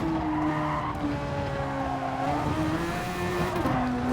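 Tyres squeal and skid under oversteer in Gran Turismo, a sustained wavering screech layered over a loud, continuous race car engine drone with no break across the whole stretch.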